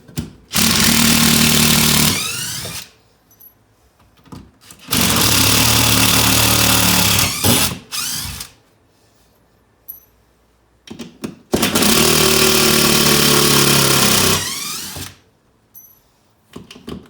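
A power drill backing screws out of a wooden scooter rack, three long loud bursts of whirring motor with short pauses and clunks between them, close up with no talking.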